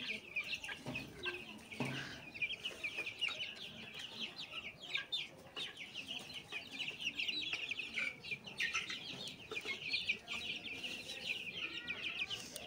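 Faint, busy chirping and soft clucking from a flock of 20-day-old Tiger breed chicks, continuous and slightly distant, with no talking.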